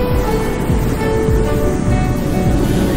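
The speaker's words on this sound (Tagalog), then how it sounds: "ang lalaki ng mga alon dito sa Bundakit Beach" Steady roar of large surf washing onto Bundakit Beach, continuous and fairly loud, with broad rushing noise and no voices.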